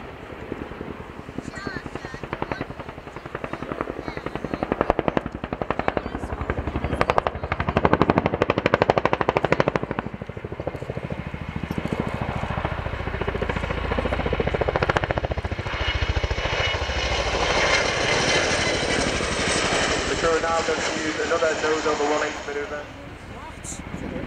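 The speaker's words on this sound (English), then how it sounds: "those 30-foot blades beating the air into submission should make a nice bit of noise" A Royal Air Force Chinook twin-rotor helicopter flies a display, its rotor blades producing a heavy, continuous thudding roar with loud engine whine building near the end, while a commentator's voice runs underneath.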